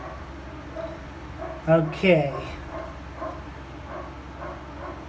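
A dog barks indoors near a bathroom where a leaky toilet flapper is being replaced, giving a couple of short, fairly loud barks over the low hum of a running fan, with a voice speaking briefly around them.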